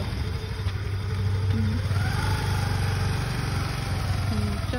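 A scooter engine hums steadily at close range while a learner rider applies throttle, giving a continuous mid-pitched motor drone with small rises in revs and no voices.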